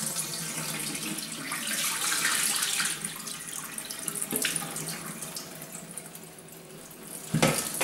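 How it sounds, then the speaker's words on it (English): Excess water is poured out of a container of soaked bamboo fabric during ice dyeing, a steady rushing splash that runs for several seconds and ends with a final gush. "you just want to pour the excess water away."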